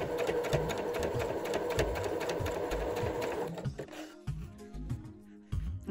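A domestic sewing machine fitted with a blind stitch foot runs a straight seam, a fast steady mechanical whir and needle chatter for about three and a half seconds, then slowing into a few scattered clicks and thumps close by.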